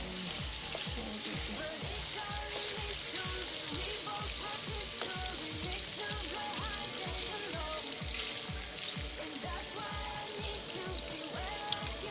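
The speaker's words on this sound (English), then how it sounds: "add a little bit of extra virgin olive oil onto a pan and get ready to brown them on the skillet" Shrimp browning in extra virgin olive oil in a skillet, a steady dense sizzle and crackle filling the whole stretch with no talk over it.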